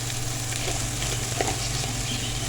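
Grated potato and onions fry in a pan with a steady, dense sizzle, close and even throughout the short stretch.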